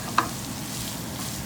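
Paneer bhurji cooks in a pan with a steady low sizzle, broken early by a single brief clink of the spoon against the pan.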